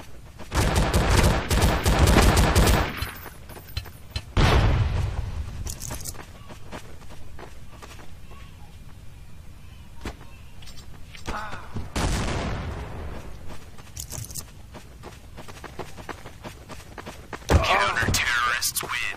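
Pistol gunfire in Counter-Strike: Source on Dust 2 or Office, with bursts of shots and footsteps spread through the round, some loud clusters and quieter stretches between. A voice talks over parts of it.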